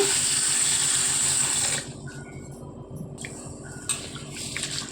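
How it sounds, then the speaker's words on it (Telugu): Soaked whole black gram (urad dal) is rinsed under running tap water, a loud steady splash that cuts off, followed by quieter swishing and faint clinks of a vessel. "ఇలా ఒకసారి కడిగేసుకొని నీళ్లు పోసుకొని నానబెట్టుకోవాలండి."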